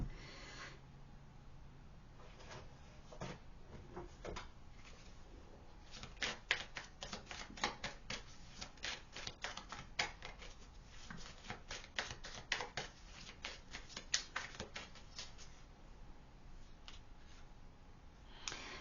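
Tarot cards being shuffled by hand, a long run of rapid, crisp riffling flicks and soft slaps that speed up into dense bursts, close and fairly quiet, with no talking.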